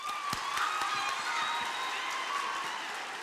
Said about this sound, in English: please give yourselves and your peers a huge round of applause